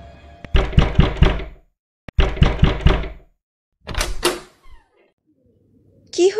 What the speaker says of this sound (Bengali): দরজা ধাক্কাতে শুরু করলো